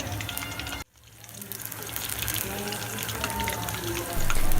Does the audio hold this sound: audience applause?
no